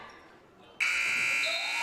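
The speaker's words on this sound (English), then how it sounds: "Long 3 at the buzzer" A loud electronic buzzer blares at a women's college basketball game, cutting in sharply after a quiet moment and holding a steady, piercing tone to the end.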